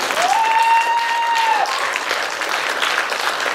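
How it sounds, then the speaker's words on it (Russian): An audience at a solo concert claps steadily throughout, with one sharp whistle rising above the applause early on and then fading. "Ну что-то у вас совсем какие-то тихие аплодисменты."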